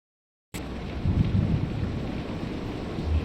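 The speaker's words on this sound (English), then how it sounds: "Muffled thunderstorm and water dripping from the roof." Muffled thunderstorm with water dripping from a roof in the video game Kentucky Route Zero, starting abruptly after a short silence as a low rolling rumble under a steady dull rain hiss, no voices.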